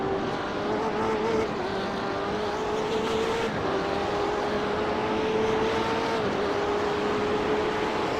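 Race cars in a racing game at the Detroit street circuit, a steady high engine whine that shifts pitch with gear changes, with several cars running close together, loud and continuous with no talk.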